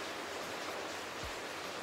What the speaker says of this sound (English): it's raining cats and dogs out there